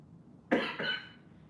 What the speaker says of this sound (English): Just me coughing and hacking and probably dying afterwards.